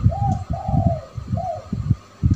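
A zebra dove (perkutut) coos in soft, rolling repeated phrases, close and clear, with a faint low background hum.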